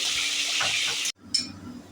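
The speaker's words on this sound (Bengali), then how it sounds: "তো পটলগুলোকে একটু উল্টে পাল্টে ভেজে নিতে হবে" Salted pointed gourd pieces frying in mustard oil give off a bright, steady sizzle, then a brief pause before a softer crackle returns as they are turned in the pan.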